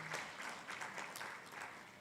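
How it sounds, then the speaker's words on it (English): An audience at a Uganda diaspora convention claps steadily through a short, faint stretch of applause, a dense patter of many hands without voices. "Please give him a clap."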